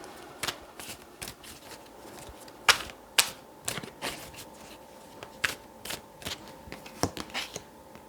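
Tarot cards are shuffled close up, with a run of sharp riffling snaps and flicks at an irregular pace and no talk.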